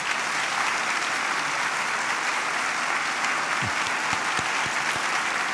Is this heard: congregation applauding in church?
yes